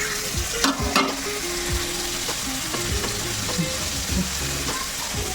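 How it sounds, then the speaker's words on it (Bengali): Paneer cubes fry in hot oil for a mixed vegetable dish, giving a steady close sizzle broken by scraping stirs and light clinks of a spatula against the pan. "কেটে রেখেছি পনিরগুলো, সেগুলোকে আমি ভেজে নেব।"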